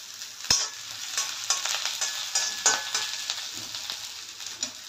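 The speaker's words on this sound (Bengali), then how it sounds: "পেঁয়াজটা সেমি ব্রাউন হয়েছে, এই অবস্থায় আমি এখানে রসুন কুচি, আদা কুচি এগুলো দিয়ে দিচ্ছি।" Onion, garlic and ginger frying in a pan while being stirred for a chicken curry, a steady bright sizzle with scraping spoon strokes and small clacks, close and alone with no talk.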